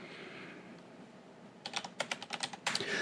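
Fingers tap on a computer keyboard in a quick burst of close, crisp clicks after a quiet stretch of faint room noise.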